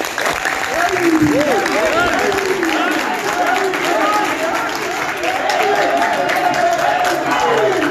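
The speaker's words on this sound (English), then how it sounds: "let me ask that we give a resounding round of applause to all our members out there" Round of applause from the audience at a nurses' and midwives' association press conference on a strike, steady clapping throughout with voices talking and calling out over it.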